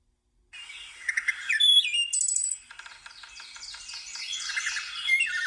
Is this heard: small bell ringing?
no